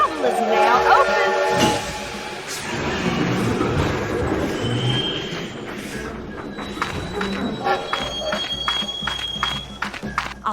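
Union Pacific train in a Lionel video game rolling forward with the throttle open, a steady rumble of rail noise with clanks and a long tonal whine in the later seconds, continuous and fairly loud throughout.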